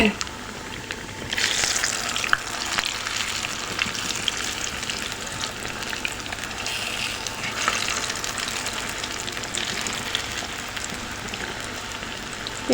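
Cabbage and egg chops fry in oil with a dense, constant crackling sizzle like rain, loud and close throughout, a soft voice briefly audible beneath.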